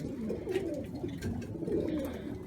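Ringed pet pigeons coo softly and repeatedly in a loft, low rolling calls close by with faint background rustle.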